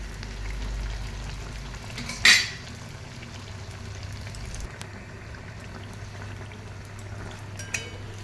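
Malpua batter frying in hot oil gives a steady close bubbling sizzle throughout, broken by a sharp metallic clink of a spatula partway through and a fainter tap near the end.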